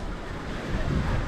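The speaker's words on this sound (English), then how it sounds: "Crashing waves." Ocean waves crashing against the rocky coast at Portland Head Lighthouse, a brief, dense, continuous rush of surf and wind swelling slightly louder toward the end.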